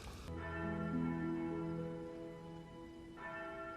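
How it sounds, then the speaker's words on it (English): A single bell in The Legend of Zorro film rings out with a sustained metallic tone, a ringing strike followed by a long decaying hum and a second strike near the end, clear and alone. "they summon Zorro by ringing the bell 5 times"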